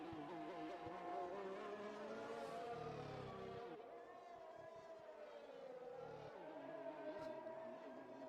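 An F1 race car in the F1 2021 video game at the Hungarian Grand Prix, its high engine note rising and falling through the final two corners under steady commentary.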